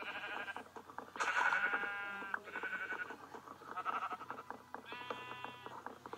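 Sheep in the video game Minecraft give several overlapping wavering bleats, faint and fairly steady in a quiet scene, with no voices.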